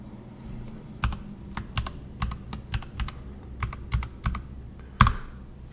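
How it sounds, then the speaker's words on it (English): Keys clack on a computer keyboard as commands are entered in a Linux terminal, with irregular close-up taps spaced through the stretch and a heavier thump near the end, without any speech. "Okay, so now you type clear,"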